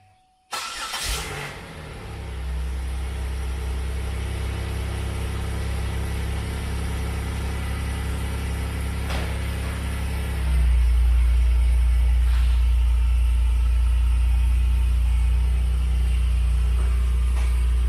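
A Pontiac Grand Prix bought cheap at a salvage auction idles steadily for the whole stretch after starting up, a close, loud, even low rumble that grows fuller and louder partway through, with no talk over it.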